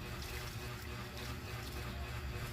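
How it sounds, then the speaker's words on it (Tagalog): Water poured from a hose or container onto scrap hollow blocks laid in a concrete garage foundation, a steady, close rushing splash that runs unbroken throughout without talk. "at bubuhusan natin ng tubig para"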